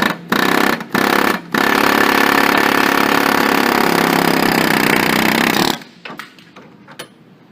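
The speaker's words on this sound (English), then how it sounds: "We're going to drive it out this way with a air impact hammer." Loud, close air impact hammer driving out a front wheel bearing on a Polaris Ranger, a sustained rapid rattle, briefly stopping twice, then running several seconds before cutting off into faint clanks.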